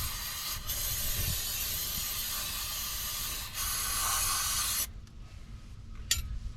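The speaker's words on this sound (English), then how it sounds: "give it a quick initial spritz here to get it get all the big stuff off it" Brake cleaner hisses in a steady close spray onto a 2011 Nissan Altima 2.5 SL front brake caliper, with a brief pause mid-stream before stopping abruptly, followed by quiet room tone and a small clank.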